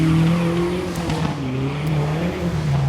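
A Dodge SRT4 rally car leaves the stage start of the 2012 STPR Rally with a loud engine drone, close by and continuous, slightly wavering as it pulls away.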